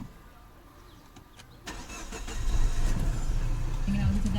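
A facelifted W2 Peugeot 508 under repair for head gasket and fan control faults cranks briefly and fires up, its engine swelling to a steady, close idle after quiet shop ambience, with someone talking.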